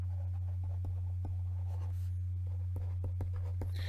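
Chalk or marker writing on a board during a differential equations lecture, a series of short scratchy taps and strokes spread irregularly over a steady low electrical hum, with no talking.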